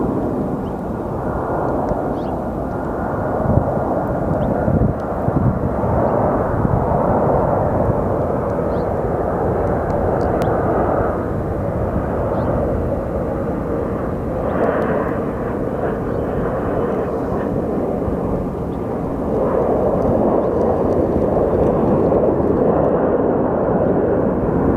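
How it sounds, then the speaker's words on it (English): A Southwest airliner landing on runway 25 right at Sky Harbor Airport, a loud sustained broad jet roar that holds steady throughout, with no speech. "this Southwest is going to be landing on 25 right"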